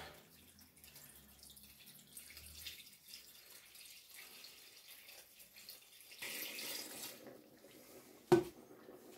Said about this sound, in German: Man hört es, wie das Wasser nach unten läuft.